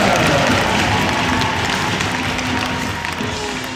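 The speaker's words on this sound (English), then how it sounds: "how about a big round of applause for your Shield All-Stars" At a high school varsity game, a crowd in the stands gives the players a broad, steady round of applause. Cheers mix into the clapping, which stays loud and full and fades only slightly toward the end.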